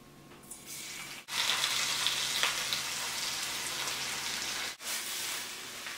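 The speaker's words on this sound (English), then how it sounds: "I am ready to stir fry the filling." Peas and oil for a samosa filling sizzle in a pan over medium heat, a dense, steady crackling hiss that starts suddenly and carries on loud, with one brief break near the end.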